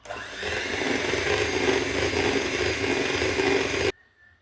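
Electric mixer beating mascarpone into cake batter, a loud, continuous close-up whirr that runs steadily for about four seconds and then cuts off abruptly.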